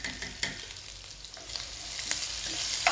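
Shallots, coconut pieces, dried chillies and curry leaves frying in oil as a tempering for meat curry, a dense nearby sizzle growing slightly louder, punctuated by stirring knocks and crackling pops, no voices.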